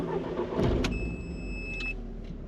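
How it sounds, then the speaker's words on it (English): An Audi TT Mk1 Roadster engine starts with a short cranking catch that settles into a steady mid-pitched idle, a thin electronic chime tone over it. "So start your engine"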